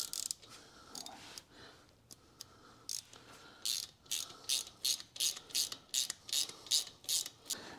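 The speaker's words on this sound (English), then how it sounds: "And we're gonna torque this to 15 foot-pounds." A ratchet wrench clicks in repeated strokes while motorcycle sprocket bolts are torqued on a 2021 Harley-Davidson CVO Road Glide, with a few scattered clicks first and then a steady, close, even rhythm of about a dozen pulls.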